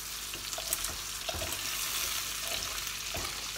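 Olive oil frying in a pan, the lamb pieces having been toasted for about five minutes, gives a steady close hiss with a few brief clatters and stirring knocks scattered through it.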